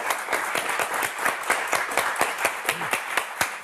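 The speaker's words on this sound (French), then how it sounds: "on va vous applaudir très, très fort quand même" Studio audience on a French television game show clapping hard in a steady, even rhythm with dense, sharp claps that carry on for several seconds without talk.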